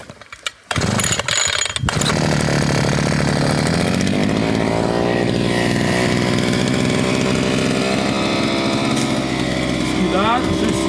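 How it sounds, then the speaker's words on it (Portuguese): Petrol brush cutter clearing scrub and undergrowth, its engine revving up to a loud, continuous high whine after a few sharp starting noises, staying close and steady throughout. "Então vamos pôr a roçadeira a roçar, tal como Jean-Jacques Rousseau"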